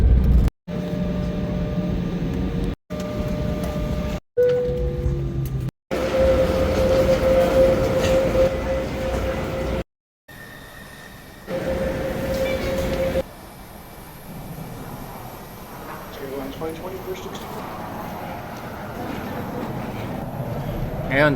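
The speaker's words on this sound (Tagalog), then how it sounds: "Ngayon, sasakay kami ng train papunta sa Ace Gates." An airport terminal train at Seattle airport rolls along with a steady rumble, brief cutouts, and a sustained tonal whine, with voices talking over it.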